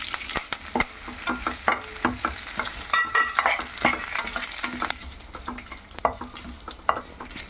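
Garlic, curry leaves and dried red chillies crackling in hot oil, with brisk repeated stirring scrapes and taps of a ladle over a continuous sizzle, close and fairly loud.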